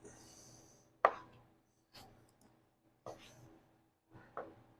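Knife chopping boneless beef chuck into stew meat on a cutting board, about five sharp, separate cuts spaced roughly a second apart, close and fairly quiet with a soft voice faintly underneath.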